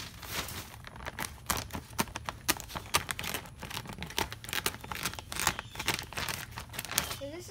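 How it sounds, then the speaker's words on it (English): Scissors snip open a bag of Repti bark for a tortoise enclosure, then loose chunks of tree-bark substrate pour and rattle out in a steady stream of dry crinkling and clattering, close and continuous. "So I just get the scissors and cut it and start pouring it."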